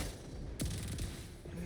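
Gunfire from a character's basic attack on a boss in the GFL2 video game: one sharp burst of shots near the middle, with mechanical clatter around it over quiet background.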